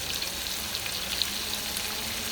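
Menudo with garlic and garlic powder frying and being stirred in a pan gives off a steady, even sizzle with no one talking.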